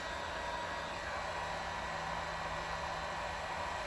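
A heat gun warms headlight side-tint film on a 2014–2022 Jeep Grand Cherokee, giving off a steady, even blowing hiss with a faint hum that holds unchanged throughout, close by and with no talking.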